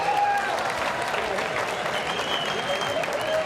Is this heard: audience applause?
yes